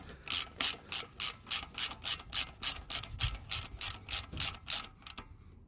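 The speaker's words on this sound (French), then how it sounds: "On serre plus à la main du mieux qu'on peut, comme ça permet de passer le cliquet." A hand ratchet clicks through about sixteen steady, evenly spaced strokes, close and crisp, while snugging a bolt on a Peugeot 106 1.1 during cooling-system work, then stops; no talking.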